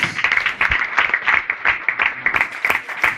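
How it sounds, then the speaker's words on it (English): An audience claps a round of applause at the ABU 50th anniversary event, a dense steady patter of many hands that swells and dips in waves throughout. "A befitting round of applause"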